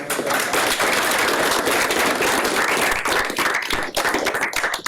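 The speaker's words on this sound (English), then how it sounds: "A round of applause." Audience applause at a fireside chat fills the clip, dense and steady clapping from a crowd, loud and continuous with a slight dip near the end.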